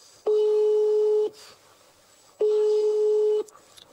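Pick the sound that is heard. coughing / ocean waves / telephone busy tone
telephone busy tone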